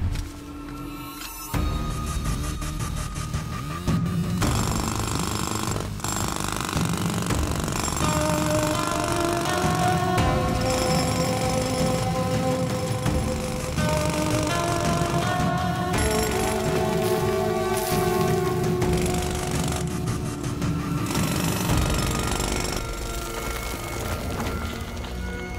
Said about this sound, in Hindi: उसको ड्रिल करके खोल दो।